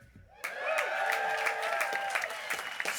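A graduation ceremony audience breaks into cheering and applause on cue, a dense sustained roar of whoops, voices and clapping from a large crowd.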